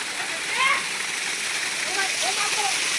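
A forest stream splashes and gurgles in a steady, close wash of running water, with faint high voices calling briefly over it.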